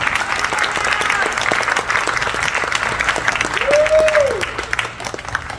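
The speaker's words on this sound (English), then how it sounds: "I think we should give her a round of applause." An audience at a museum collection opening night applauds warmly, a sustained wash of many hands clapping nearby, with a voice rising briefly over the clapping midway before it starts to thin out.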